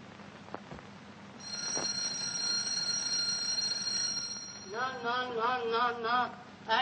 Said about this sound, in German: Einmal die Klingel in Gang setzen sollte schon genügen.